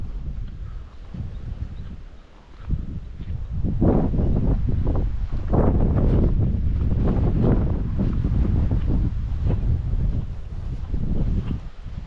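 Strong gusts roar across a mountain campsite in Khun Sathan National Park, Nan, buffeting the microphone with heavy, surging wind noise that rises and stays loud, with no voices.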